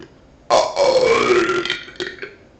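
A single long, loud burp erupts after a short pause, rumbling and shifting in pitch before tapering off with a couple of small trailing croaks.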